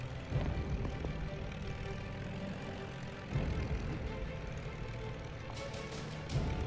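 Il-2 propeller aircraft engine in the video game Wings of Duty, during an emergency landing at Stalingrad, a loud steady drone filling the whole clip with brief surges, with a voice talking over it.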